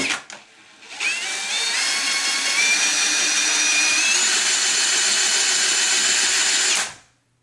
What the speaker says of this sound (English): So I'm using this snake with a drill attached to it.